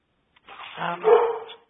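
A single dog gives a short, drawn-out bark or whining yowl, close and fairly loud, rising and falling for about a second before stopping, with silence around it.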